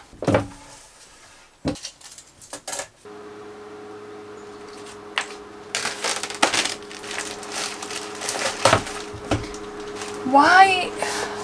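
Plastic bags wrapped around wood for a camper van kitchen counter are handled, giving crinkling, rustling and sharp crushing sounds in bursts over a steady low hum, with a few knocks, all close to the microphone.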